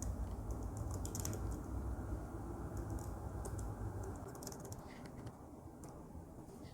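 Computer keyboard clicking in a quiet room as git commands are typed into VS Code, a steady run of light, quick keystrokes at close range, faint and alone.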